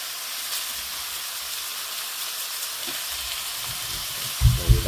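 Pork belly grills without oil in Salad Master cookware, giving a steady close sizzle with a constant frying hiss and a couple of soft clunks near the end.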